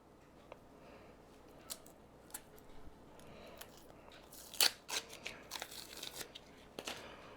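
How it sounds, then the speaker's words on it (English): Layers being peeled off a smoked onion cut in half, quiet close crackling and tearing with a few sharper crunchy snaps, sparse at first and busier toward the end. "Let's go ahead and peel these off."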